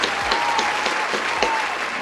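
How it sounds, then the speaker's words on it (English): A studio audience claps for a guest on a talk show, giving a dense, continuous burst of applause that stays loud and close for two seconds. "Round of applause for Robert Clifton Jr."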